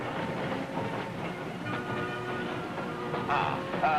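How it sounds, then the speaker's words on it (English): A train rumbles steadily nearby, with a low continuous roll and faint hiss, ending in a brief louder burst. "There's my train."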